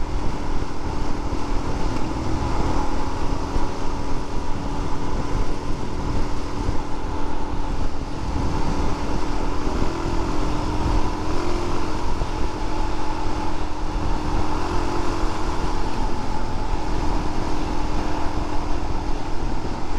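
A 2022 Suzuki DRZ400SM motorcycle riding along, its engine drone buried under steady, loud wind noise buffeting the microphone, continuous with no talk.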